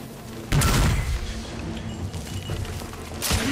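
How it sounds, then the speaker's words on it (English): A grenade goes off during a firefight in The Order: 1886, a sudden loud boom with rumbling tail, followed by scattered gunfire and battle noise, with soldiers shouting in the background. "Look out! Grenade!"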